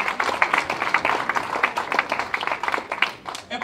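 Audience applause at a community meeting in Coldwater, Mississippi, many hands clapping in an uneven, fluttering rhythm at a moderate level, easing off briefly just before the end.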